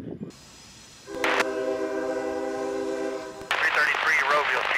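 A loud, sustained train horn blares for a couple of seconds over rumbling rail noise, followed by rattling as the train rolls past, at a large rail yard in Bellevue, Ohio.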